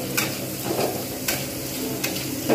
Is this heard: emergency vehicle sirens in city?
no